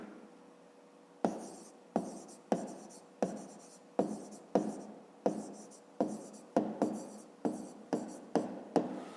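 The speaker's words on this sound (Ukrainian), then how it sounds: "Ну і записуємо відповідь." A pen writes an answer on paper in a series of about a dozen short, close scratching strokes with brief gaps between them, quiet and alone.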